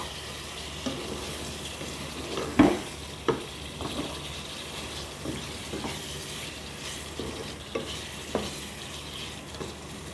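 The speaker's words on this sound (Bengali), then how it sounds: "এখন এর মধ্যে আমি রসুন আর কাঁচামরিচ আরও 3টা কাঁচামরিচ দিয়ে দিলাম।" Garlic and green chilies frying in a pan of beef curry, giving a steady low sizzle broken by a few sharp stirring knocks and scrapes, close by and with no voices.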